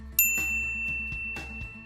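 A bright notification bell dings once sharply, its clear tone ringing on and fading over a soft background of other sounds.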